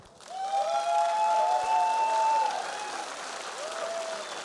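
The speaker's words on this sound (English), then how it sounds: "Big round of applause, please," Audience applause for CLG Europe at a League of Legends tournament in Poland, a moderate wash of clapping from a crowd, fairly distant and steady, with a sustained tone ringing over it.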